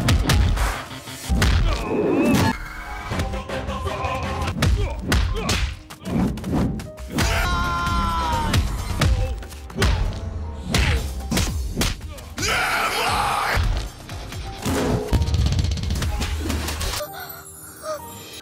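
Fist-fight sound effects from an action film recap: repeated heavy thuds, smacks and whacks land in quick, irregular bursts, loud and close, mixed with grunts and movie soundtrack over roughly eighteen seconds.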